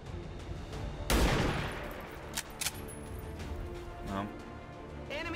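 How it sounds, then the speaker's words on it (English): Sniper rifle shot in the game XCOM 2: one loud, sharp blast followed by a rolling rumble, then a couple of brief clicks and a low tail within constant game ambience. "That's not a very strong sniper rifle, is it?"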